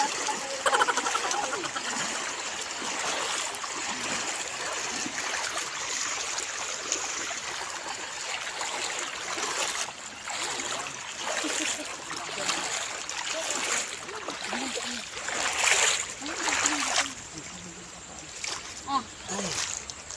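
Water sloshes and splashes steadily as people wade across a river, a continuous rushing wash with heavier splashes now and then, loud and close throughout, while people talk intermittently.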